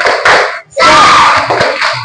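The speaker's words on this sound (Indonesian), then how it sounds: "coba tepuk semangatnya Pak Guru mau dengar" Indonesian schoolchildren in a classroom shout a rhythmic 'tepuk semangat' chant, bursts of clapping mixed with loud voices in two main phrases separated by a short pause.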